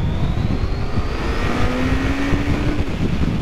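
A 2025 QJ Motor SRK 800RR motorcycle engine drones steadily while riding on the road, wind rushing around it and the pitch shifting gently as the bike slows in third gear.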